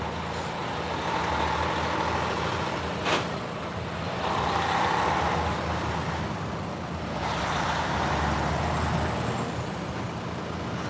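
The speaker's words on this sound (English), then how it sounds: "Caravan of 4 cars headed out to 25th right now." Four cars pulling away together from a detention center street in Chicago, a steady broad rumble of engines and tires that swells and fades in waves, with a brief sharp hiss partway through and no talking.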